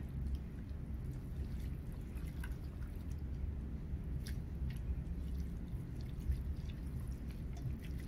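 Marinade broth is drained off pork adobo, giving a soft, steady trickle and scattered drips over a low background hum, with no talk.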